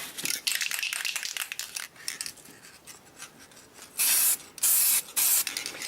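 Aerosol chrome paint sprayed in a light coat onto an RC light bar lens: short hissing bursts and rustles, then three loud, sustained sprays close to the microphone.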